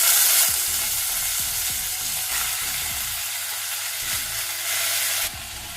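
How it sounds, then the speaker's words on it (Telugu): Rice with cumin, a bay leaf and cinnamon is gently stirred in a pot, giving a continuous hissing sizzle with a regular series of soft scraping strokes underneath, close and with no speech. "ఇలా వేసుకున్న బియ్యాన్ని కింది నుంచి మెల్లిగా ఒకసారి కలిపేసుకోవాలి"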